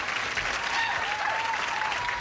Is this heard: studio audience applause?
yes